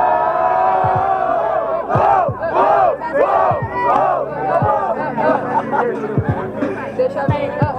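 Audience at a Brazilian student rap battle in Guarulhos shouting and chanting loudly in rhythmic waves, a dense roar of many voices with claps throughout.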